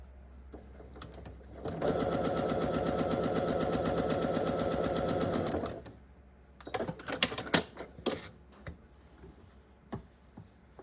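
A sewing machine stitches a bias edge on a quilt triangle for a tree block, giving a steady rapid clatter for about four seconds, then scattered clicks and handling taps.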